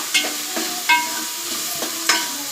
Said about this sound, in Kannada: ಅದೇ ಸಾಸಿವೆ, ಕಡಲೆಬೇಳೆ ಎಲ್ಲ ಒಗ್ಗರಣೆ ಹಾಕಿ ಹಸಿಮೆಣಸಿನ್ಕಾಯಿ, ಈರುಳ್ಳಿ, ಟೊಮೊಟೊ ಇದನ್ನೆಲ್ಲ ನೀಟಾಗಿ ಫ್ರೈ ಮಾಡಿ